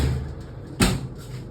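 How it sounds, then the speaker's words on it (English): An oven door swings shut in a home kitchen after a Victoria sponge cake is checked for doneness, giving one short, fairly loud thud over a low background hum. "I'm going to close the oven door."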